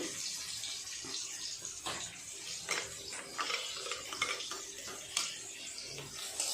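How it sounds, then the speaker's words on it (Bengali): Spiny gourd (kakrol) pieces fry in hot oil with a steady, quiet sizzle, broken by occasional clinks and scrapes of a spatula against the pan. "কাঁকড়গুলো ভাজা হয়ে গেছে, আমি তুলে নেব।"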